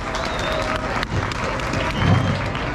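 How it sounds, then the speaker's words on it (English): A crowd at a livestock fair's goat show claps in a sustained round of applause, dense and moderately loud, with some background voices mixed in. "Give them all a big round of applause."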